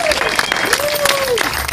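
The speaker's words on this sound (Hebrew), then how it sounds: "כפיים." A brief burst of crowd clapping at a celebration honouring a woman's milestone, dense and close, with a voice carrying over the applause.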